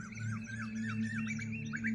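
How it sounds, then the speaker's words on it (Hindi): Asian koel calling across open farm fields: repeated rising, squawky whistled notes in quick succession over a steady low hum, moderately close and clear, with no talking. "और वो भी सबसे ज़्यादा कोयल बोल रही है यहाँ पे।"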